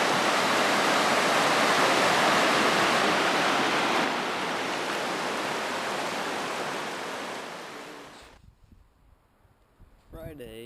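Fast river water after heavy rain on the Eleven Point River, a loud, steady broadband rush of roaring flow close by that fades out near the end, leaving quieter handling noises.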